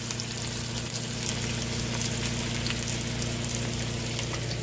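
Onion frying in hot oil for a spicy chicken curry, giving a steady, dense sizzle and crackle that holds evenly throughout, close and moderately loud with no voices.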